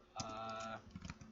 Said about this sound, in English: So we need to type